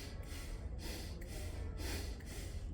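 Slow, steady breaths in and out through the nose during a yoga exercise, about four soft airy cycles close to the microphone, with no talking.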